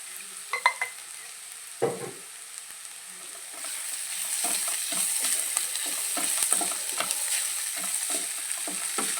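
Vegetables are sautéed in coconut oil in a pan, giving a soft, steady sizzle. Several sharp scraping stirs come early, then a run of repeated spoon-on-pan clatters, with no talking.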